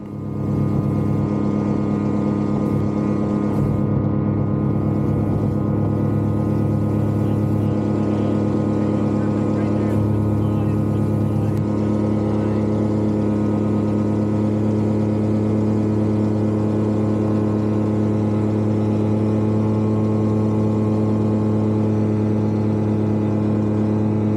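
A steady, loud motor glider engine drone at full throttle during a self-launch takeoff runs throughout, constant and unbroken, with a strong low hum and no voices.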